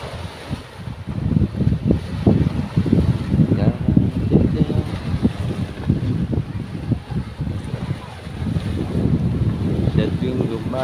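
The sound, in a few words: strong sea waves and wind at sea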